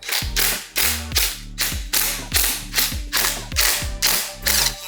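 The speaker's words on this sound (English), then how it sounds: "Just using an impact gun to keep things simple for removal, definitely not torquing this way." An impact gun removes bolts on an Audi S5, hammering in about eight short rattling bursts with a chattering rhythm, each burst ending in a brief whir as the tool spins down.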